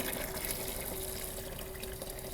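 Water running steadily through a rinse column, a continuous close rushing flow like an open tap, even in level with no breaks.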